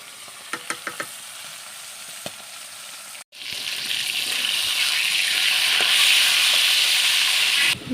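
Fish pieces rubbed with turmeric and salt sizzle in hot oil in a wok, a steady loud frying hiss that swells after a brief pause, with a few light knocks of utensils early on and no talk.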